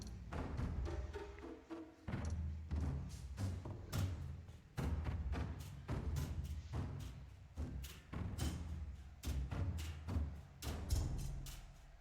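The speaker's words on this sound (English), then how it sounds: "Couple of mortars shooting towards the supply point, and I think one mortar shooting back" Mortars fire in a video game battle around a supply point, a steady series of dull thumps and thuds at varied intervals, moderately distant and repeating throughout.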